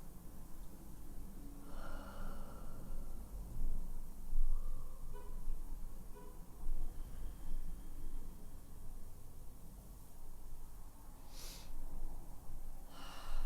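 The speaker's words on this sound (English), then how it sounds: "A couple more rounds of breath here." Slow, deep yoga breaths are drawn in and released through the nose, heard close as soft rushing inhales and exhales over faint background hiss, with a sharper airy breath near the end.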